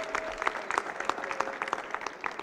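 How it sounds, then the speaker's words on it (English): A conference audience claps for the judges at a business master class, a short round of distinct, fairly close hand claps at a steady rhythm. "So let's give a round of applause for our judges."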